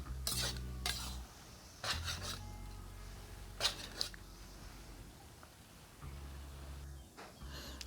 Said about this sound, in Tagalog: Imimix lang po natin siyang mabuti para maghalo-halo po talaga sila